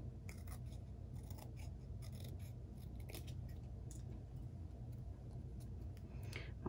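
Scissors trimming a paper craft piece for a playing-card storage tin: quiet, close snips and paper rasping, a series of small cuts over a steady low background hiss.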